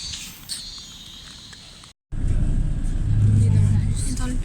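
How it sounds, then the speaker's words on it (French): Inside a moving bus, a steady low engine rumble and road noise fill the cabin at moderate level, with a brief dropout before the drone returns stronger, faint clatter and a voice nearby. "On est dans le bus, c'est bon."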